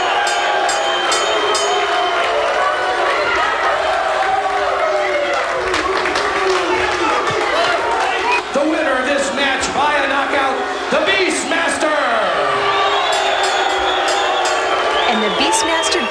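A boxing event crowd at a rapping and lady-fighting show jeers loudly and steadily, with whistles and shouts in a dense, unbroken roar that carries through to the end.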